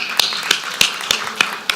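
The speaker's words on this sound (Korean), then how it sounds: "박수 한번 쳐줘." About six sharp, evenly spaced hand claps during a church evening worship service, close and distinct, with faint background sound between them.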